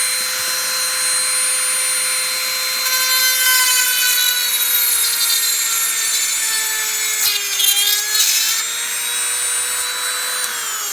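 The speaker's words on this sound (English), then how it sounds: "That is a hole drilled for your avocado stone." A small rotary tool drills into an avocado stone with a steady, high-pitched whine that shifts slightly in pitch as the bit bites, and grinding rasps rise over the motor.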